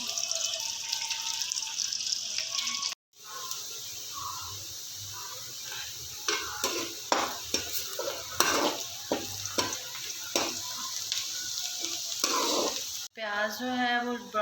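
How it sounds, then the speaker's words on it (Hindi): Chopped onions going into about a cup of hot oil in a kadhai, giving a steady close sizzle, broken by brief gaps and punctuated by stirring scrapes and clinks. "इसमें 1 कप के करीब जो ऑयल डाल के अब मैं इसमें ऐड कर रही हूँ प्याज"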